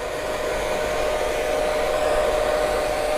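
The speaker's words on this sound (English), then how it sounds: "let's turn down the sound of the hairdryer" A hair dryer runs loud and close with a steady, unbroken blowing whir throughout, alone with no other sounds.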